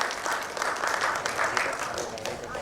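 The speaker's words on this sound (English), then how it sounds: "Can we please give him a round of applause?" Audience applause for a moderator at a BFSI digital value panel event, dense steady clapping from a crowd throughout, fairly loud, with no clear speech over it.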